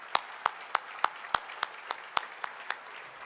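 At a business hall of fame event, a single pair of hands claps slowly and evenly, about ten distinct claps in sparse rhythm over a quiet room.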